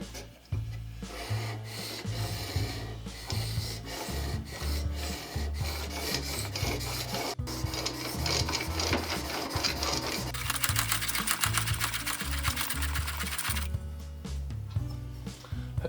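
A plane blade being rubbed back and forth on a sharpening stone in a woodworking workshop, a dense, rhythmic rasping that runs close and continuous, with no talking.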